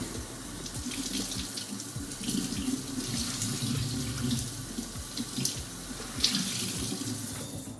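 Tap water runs steadily into a sink while a freshly dyed yellow rag is rinsed and squeezed, with a continuous close splashing stream and small bursts as the cloth is wrung.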